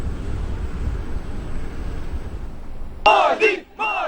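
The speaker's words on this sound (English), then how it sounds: "with an audience in raptures cheering every sentence, chanting his name" Arena audience at Sydney Olympic Park cheering for Prime Minister Narendra Modi: a low rumbling crowd roar, then at the end a few loud, close, rhythmic chant-like shouts.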